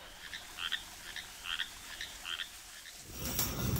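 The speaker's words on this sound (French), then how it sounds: "j'ai plus été embêtée par les grenouilles" Frogs croaking in Australia, a series of short repeated calls in an irregular rhythm against a quiet night background, followed by a louder broadband rush near the end.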